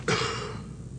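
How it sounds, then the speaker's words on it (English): A single sharp cough bursts out close by, then trails off into a short breathy decay. "Deep breath in, hold it, and cough."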